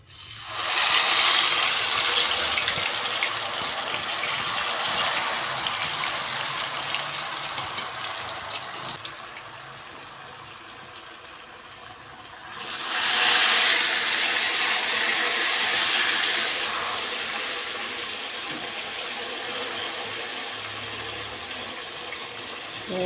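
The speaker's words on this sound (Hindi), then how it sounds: "हमने ऑयल के अंदर आलूओं को डाल दिया है" Spice-coated potatoes fry in hot oil with a loud, steady, hissing bubble that dips for a few seconds and then surges back to full strength.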